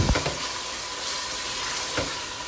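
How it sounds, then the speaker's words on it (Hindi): Boneless chicken breast frying in a pan for chicken chow mein, a steady close sizzle with a couple of brief stirring scrapes near the start and around two seconds. "थोड़ी देर ही इसको फ्राई करेंगे"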